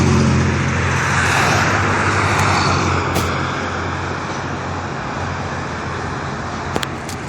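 Cars rolling past on a nearby road produce a steady broadband traffic rumble that stays fairly loud throughout, easing slightly toward the end, with no speech.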